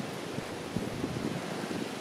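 Strong wind on a cloudy mountain ridge along the Appalachian Trail, a faint, steady broadband rush with soft gusty swells and no talk.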